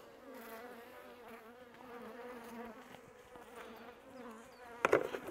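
Honey bees buzz inside an opened hive nucleus: a steady, droning hum that stays level, with a brief louder rustle near the end.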